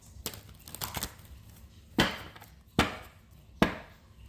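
Sharp, crisp slaps and riffles of tarot cards being shuffled, a few quick soft ones early, then three distinct louder snaps spaced evenly apart.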